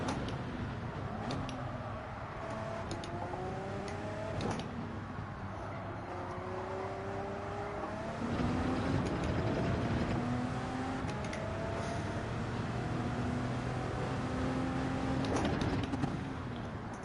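A prototype racing car engine in Gran Turismo 7 revs and shifts continuously during an online lobby race, its pitch climbing and dropping through repeated gear changes under a steady roar.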